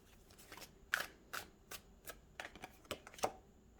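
Twin Flame Oracle Journey cards by Mystic Moon Oracles shuffled by hand, a series of quiet, crisp card flicks and slaps in an uneven rhythm, close up and without speech.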